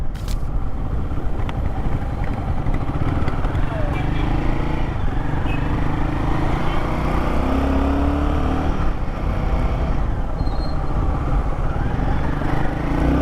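A Royal Enfield Guerrilla 450 motorcycle rides along with a steady engine drone and constant rushing wind noise, loud and close throughout.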